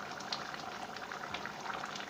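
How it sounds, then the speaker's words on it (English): Stew bubbles at a steady boil in a pot, a dense, continuous crackle of small popping bubbles heard up close and at low volume, with no one talking. "we add it to our boiling stew bit by bit"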